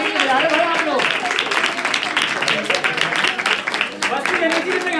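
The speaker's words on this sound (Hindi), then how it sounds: "सुहानी जी मंच पर आए और जोरदार तालियों के बीच में स्वागत है इनका" Loud, steady audience applause at a Swami Vivekananda program as a speaker is welcomed onto the stage, a dense crowd clapping continuously throughout.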